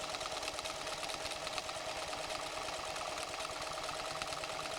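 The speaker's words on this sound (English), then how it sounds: "The machine will sew the right bead." A PFAFF creative 7550 sewing machine stitching a buttonhole bar tack at the keyhole end, running as a steady, fast, continuous mechanical whir with rapid needle chatter at even volume throughout.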